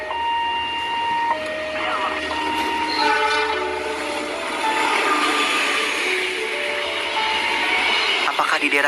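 Train passing a railway crossing, with a sustained broad rumble and clear horn tones sounding repeatedly throughout, loud and close.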